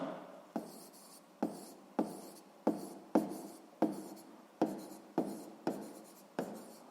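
A pen scratches out a maths answer by hand in a quiet room, in a regular series of about ten short strokes, each with a sharp onset that trails off.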